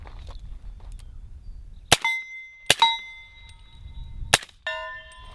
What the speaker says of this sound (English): the way that Shoot Steel does these things is they have a bolt through them, and it actually makes them quite loud